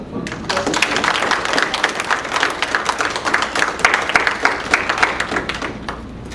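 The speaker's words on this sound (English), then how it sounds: "We have one more round of applause for these" An audience applauds at a pageant, with dense, steady clapping filling the room from start to finish and no talk over it.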